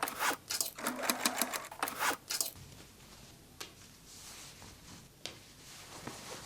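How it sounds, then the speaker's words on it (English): A sewing machine stitches the bottom corners of a hobo bag and its lining, running in quick rattling bursts for a couple of seconds, then fabric handling with occasional light clicks, close up. "Stitch box bottom corners on main assembly and lining."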